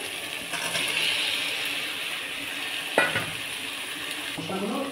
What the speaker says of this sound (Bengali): আমি কাঁঠাল আর আলুটা ঢেলে দেবো।